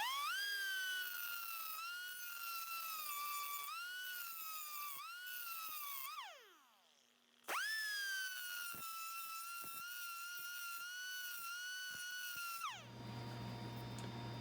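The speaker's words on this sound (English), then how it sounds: "I'm going to take a die grinder and put a little groove in there" A die grinder fitted with a diamond-impregnated cutoff wheel whines at high pitch while grooving a steel rod, cutting in several long passes that dip in pitch under load, with a brief spin-down and restart midway.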